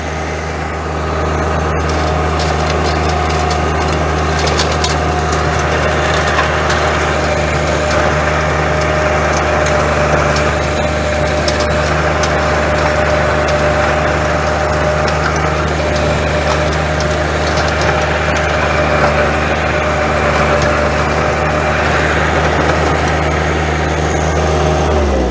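John Deere 1025R compact tractor with a tiller working garden soil, a loud steady engine drone holding at high revs with constant mechanical churning and no pauses.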